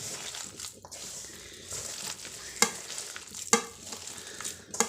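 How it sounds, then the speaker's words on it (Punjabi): Punjabi kadhi simmering in a pot gives a soft, steady bubbling and gentle sizzle close by, with a few sharp clinks or pops breaking through, and no one speaking. "ਉਧਰ ਕੜੀ ਵੀ ਆਪਣੀ ਰਿੱਝ ਰਹੀ ਹੈ ਜੀ"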